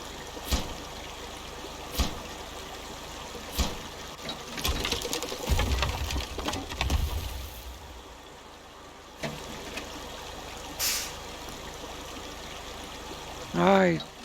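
A truck fords water in SnowRunner, bypassing a bridge, with sloshing and splashing swelling in the middle under engine noise, scattered clunks, and a short musical sweep near the end.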